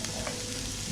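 Onion sizzles in olive oil in a pan, a brief steady frying hiss with faint stirring, close and moderately quiet.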